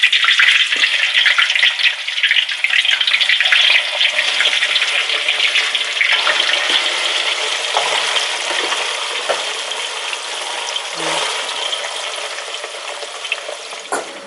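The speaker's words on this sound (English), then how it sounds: "I'll actually let that stay in there whilst I fry the meat" Meat fries in hot oil with rosemary for Ghanaian shito chilli oil, giving a steady, dense, close sizzle and crackle throughout that fades slightly toward the end, with occasional stirring clicks and no talking.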